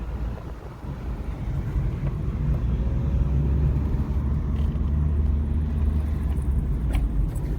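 Car driving along a road through a small mountain town in Spain: a steady low engine and road rumble from inside the vehicle with some wind buffeting, the level swelling slightly after the first second, and no voices.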